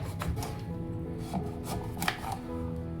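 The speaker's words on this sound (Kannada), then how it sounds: "ನಾವಿಲ್ಲಿ ಒಳಗಡೆ ಅದು ನೀಟಾಗಿ ತಕ್ಕೊಂಡಾದ್ಮೇಲೆ ಸಣ್ಣ ಸಣ್ಣ ಪೀಸಾಗಿ ಕಟ್ ಮಾಡ್ಕೊಳ್ಳೋಣ" A knife cuts a vegetable into small pieces, giving a few soft, irregular chopping strokes over a constant noisy background, with no talking.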